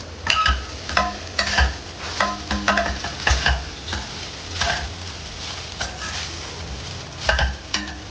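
Gooseberry rice is mixed in a pan with a spoon, a series of irregular scraping strokes and light clinks over a soft sizzle, close and fairly loud.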